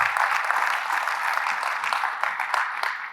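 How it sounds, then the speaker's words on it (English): Audience clapping at a meetup, a brief steady burst of dense applause from many hands, fairly close and even in loudness from start to finish. "Give a round of applause for."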